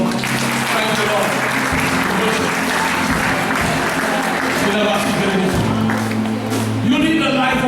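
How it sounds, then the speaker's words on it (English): Church congregation clapping hands during a Sunday service: dense, steady applause that runs throughout, close and loud, with voices and sustained music or singing beneath it. "Clap your hands unto the Lord."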